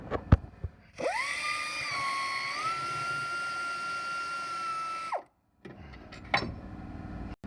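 A power tool whirs up and holds a steady high-pitched spin for about four seconds, spinning bolts out while removing an alternator, then winds down, with a few sharp clanks of metal before and after.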